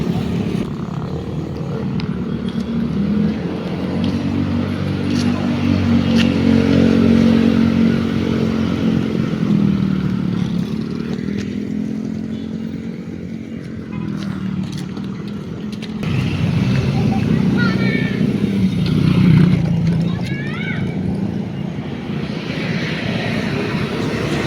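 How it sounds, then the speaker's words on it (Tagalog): Night road traffic at 2 a.m. outside a convenience store, engines of cars and motorcycles swelling and fading as vehicles pass nearby, a steady rumble with louder passes alone without talk. "Dami na pa rin palang sasakyan."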